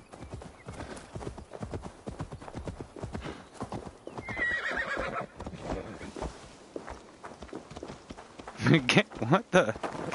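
Horse hooves clip-clopping and a neigh in Assassin's Creed Valhalla, steady trotting under someone talking, with a louder burst of hoofbeats near the end.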